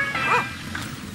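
A dog barks in the Filipino-made video game Until Then, a short yipping bark standing out clearly at moderate loudness over a faint background.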